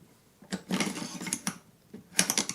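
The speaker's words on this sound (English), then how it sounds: "You simply push that down and turn this whole piece. That just unlocked your entire piston." Metallic clicks and scrapes come close up as the pin on a Sig Sauer P556 rifle is pushed down and the piston assembly is turned to unlock it, a few short separated bursts with a sharp final click.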